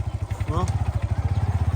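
Close motorcycle engine idling with a rapid, even chugging pulse, while a voice speaks briefly over it.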